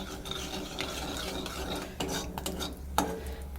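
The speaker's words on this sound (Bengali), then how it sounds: "আমি এর ভিতরে দেখো পেঁয়াজ লঙ্কা টমেটো তিনটে একেবারে দিয়ে দিয়েছি।" Onion, green chili and tomato tossed together into a pan of blackened cumin seeds for a Bengali egg curry, giving a steady low sizzle with scraping and stirring rasps and a sharper clink near the end, no voices.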